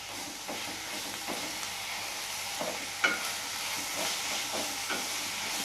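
Ambade bhaji greens are stirred and fried in a pan, giving a steady soft sizzle and hiss broken by repeated scraping strokes of the spoon at a loose, regular pace, close and fairly quiet.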